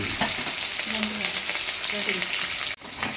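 Green chillies frying in oil with mustard seeds, cumin and onion, a steady close sizzle with light spatula scrapes, and a short break near the end.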